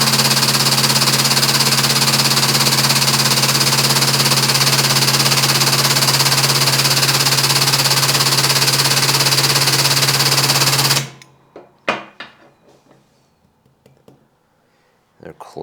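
A homemade blacksmith press runs with a loud, steady motor drone and a constant buzzing hum for about eleven seconds, then cuts off, leaving a few sharp metallic clicks and clunks from the dies.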